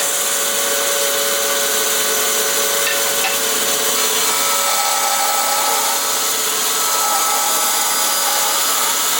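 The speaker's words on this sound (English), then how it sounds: "Here I'm using a push stick so I don't get my fingers anywhere close to that bandsaw." A bandsaw cuts through scrap wood, with a steady, loud broadband whine and rasp that holds for the whole stretch, close by and with no talking.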